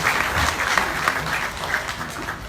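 An audience applauds Pak Basuki (Ahok) at a Jakarta event, a steady, dense wash of clapping from many hands that holds evenly throughout, with no talk over it.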